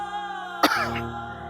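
A single short, sharp cough from one person in a quiet interior setting, close and clear against a soft continuous background tone.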